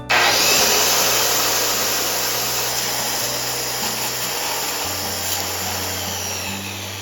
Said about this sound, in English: I bring up my circular saw to check that the outside of the blade lines up exactly with my cut line